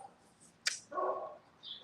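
A dog barks once in the background, a single short yelp followed by a brief whining tone, faint and distant over a quiet room.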